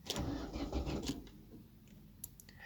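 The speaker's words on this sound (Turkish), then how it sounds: "Arabayı çalıştırıyorum." An Opel Astra G engine cranks and turns over with a whirring starter, then settles into a lower idle rumble with a few faint clicks.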